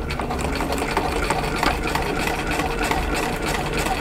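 A sewing machine with a knee-lever presser foot stitches a quarter-inch quilt seam at 12 stitches per inch, a steady, close mechanical whir and rapid needle clatter running evenly without pause.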